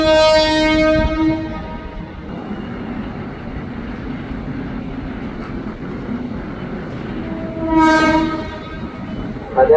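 A KRL commuter train departs Manggarai station. Loud horn blasts open and close the scene, and a continuous rumble of rolling wheels and rail noise fills the stretch between them.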